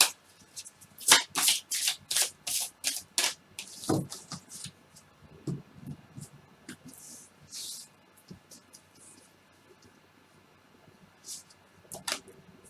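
A deck of oracle cards is shuffled by hand for a summer reading, giving a quick series of crisp riffling bursts that grow sparser toward the end, close and without talk.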